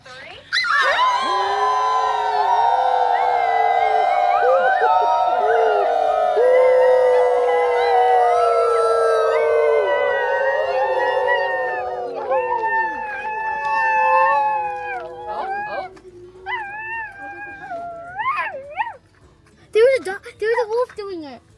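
A group of people howl together in long, wavering, overlapping cries imitating wolves at a wolf sanctuary, loud and close, then trailing off into shorter scattered howls.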